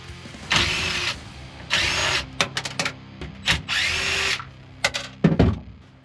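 A power driver with a T20 Torx bit runs in repeated bursts while removing a car's motor during a gutting job, several whirring spins of varying length with short taps and clicks between, close and fairly loud.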